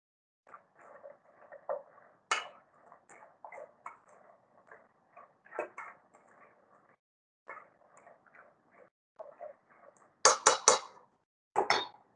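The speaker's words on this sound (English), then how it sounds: "I want to evenly coat the pecans in this egg white mixture" Pecan halves tumble and clink against a bowl as they are tossed in whipped egg white, a run of soft patters and ticks with a few sharper, louder clacks near the end.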